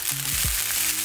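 Spam fried rice with vegetables just tossed in, sizzling in a hot pan as a brief, steady, close hiss with a low thump from the added food.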